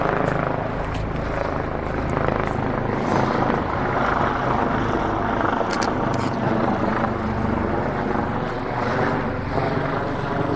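A helicopter's loud rotor thrum fills the scene continuously, steady and close, with a few faint clicks on top, in the Yushin Valley, Japan.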